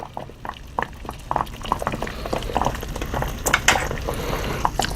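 Jute twine soaks in a pot of water heated on a burner, giving off irregular bubbling and popping, small gurgles and pops scattered close by with no speech.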